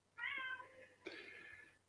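A male cat meows twice close by, a longer call followed by a second, slightly shorter one after a brief pause, alone in a quiet room.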